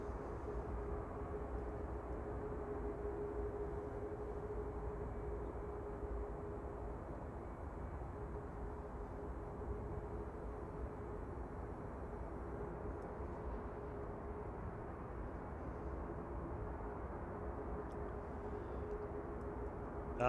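A steady, distant jet roar from a Boeing 737 Max 8 at Manchester Airport, a low continuous rumble with a faint tonal hum, unchanging for about twenty seconds with no talk.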